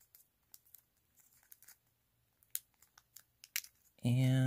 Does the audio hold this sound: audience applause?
no